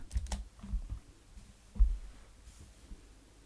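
A single Enter key on a computer keyboard is struck with a soft, low thud, with a few faint clicks of other key taps around it in a quiet room.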